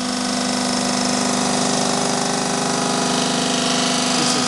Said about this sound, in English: This is cast iron head, so what we're doing is actually grinding it.